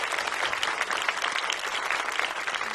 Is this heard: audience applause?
yes